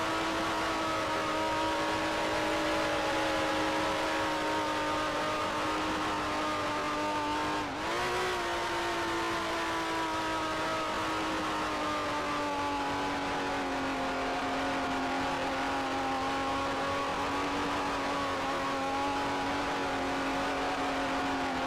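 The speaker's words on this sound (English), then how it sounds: "We're getting an engine failure this race." A 1965 Formula 1 car's failing engine drones steadily and loudly throughout in the GPL racing game, its pitch wavering with a brief dip and stumble midway before settling back into a strained, continuous hum.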